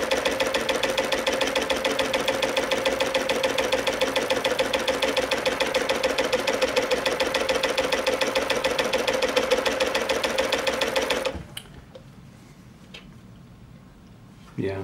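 An industrial cover stitch sewing machine with a binder runs at a fast, even rhythmic clatter for about eleven seconds, then stops abruptly, leaving quiet room tone and a brief knock at the end.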